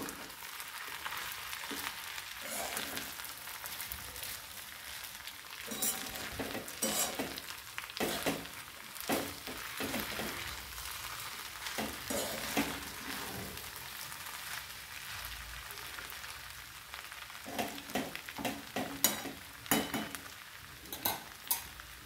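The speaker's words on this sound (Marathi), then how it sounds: "आता आपण खिचडी छान हलवून घेऊया ही।" Fasting potato khichdi is stirred in a pan for a long stretch, with a spoon scraping and clinking over a soft sizzle. The strokes are close and repeated, the clatter growing busier toward the end.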